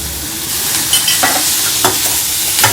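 Ingredients for traditional theeyal sauté in a pan with a loud, steady sizzle, punctuated by several soft scraping strokes of stirring.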